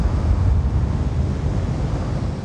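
Vertical thrust from a spacecraft's engines in The Invincible video game, a loud, steady, broadband roar that rumbles without a break and has no voices over it.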